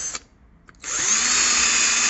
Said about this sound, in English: I was going to drill into them, so I wanted to show you guys what it's like drilling into one.